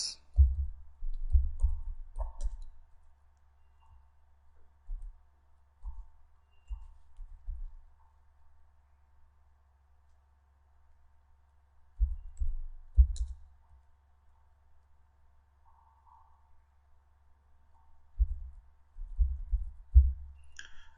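Computer keyboard typing while entering city names into an Excel 2010 list, quiet clusters of soft key clicks in short bursts separated by long pauses, close and faint.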